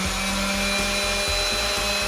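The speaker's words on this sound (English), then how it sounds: "We're actually gonna take our handheld sander and just take it right to the edge here and smooth" A handheld sander smooths the edges and corners of a scrap wood floating frame, its motor droning loudly and steadily with a faint rhythmic pulsing as it moves along the wood.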